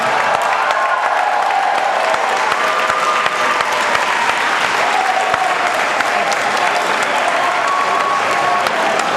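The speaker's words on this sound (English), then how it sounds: "give a big round of applause to the cast of Super Samurai" A large convention panel audience gives the Super Samurai cast a loud, sustained round of applause, dense clapping throughout with faint cheers and voices mixed in.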